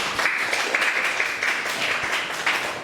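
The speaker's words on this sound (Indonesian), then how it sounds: "tepuk tangan untuk kelompok 2" A classroom applauds a student group with a steady round of many hands clapping, fairly faint and continuous, with a few sharper individual claps standing out.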